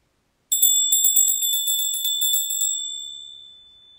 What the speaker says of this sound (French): tu vas entendre le son de la cloche